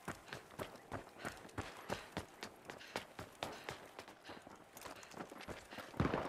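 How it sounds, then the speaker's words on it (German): Footsteps in the video game THE FINALS, a quick rhythmic series of thudding steps running close by, with a heavier impact near the end. "Ich höre überall Schritte."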